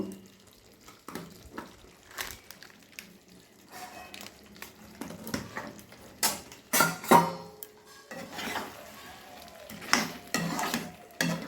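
Chicken kosha being stirred with ghee and garam masala in a pot, scattered scraping and clinking spoon strokes against the metal, irregular and close, with quiet gaps between bursts.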